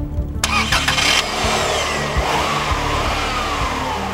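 A Subaru flat-four boxer engine cranks briefly, catches and fires up, then settles into a close, steady running note with a slight rev.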